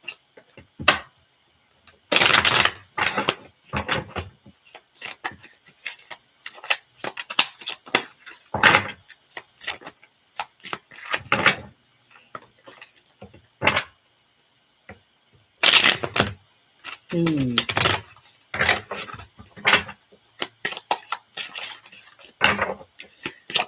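Tarot cards shuffled by hand during a live reading: crisp riffling and clacking bursts, close and fairly loud, arriving in irregular clusters with short pauses between them and no talking.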